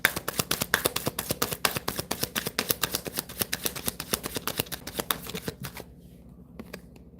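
Tarot cards shuffled by hand in a quick, even run of crisp riffling snaps, close and clear, that tapers off into quiet near the end with no talking.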